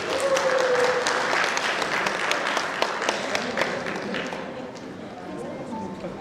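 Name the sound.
audience applause welcoming a speaker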